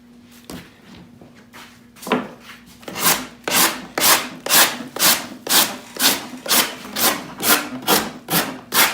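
A rasp scraping along the foam edge of a taxidermy shoulder pedestal, shaping a scalloped edge: a few tentative strokes, then a steady rhythmic series of about a dozen loud back-and-forth rasping strokes, close and unaccompanied by talk.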